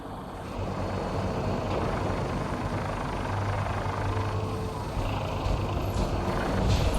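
A vertibird aircraft engine from the video game Fallout 4 gives a steady, loud, heavy rotor-and-turbine drone that holds constant for the whole stretch with no speech.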